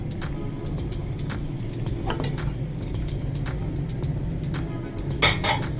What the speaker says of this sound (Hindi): चम्मच चलाएंगे।